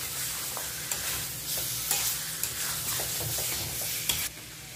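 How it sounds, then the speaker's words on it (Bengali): Broiler chicken pieces are stirred into a cooked spice paste in a hot pan, a steady close sizzle broken by a handful of sharp spatula knocks and scrapes, with no voices. "মাংসের সঙ্গে মশলাটা ভালো করে মিশিয়ে দিই"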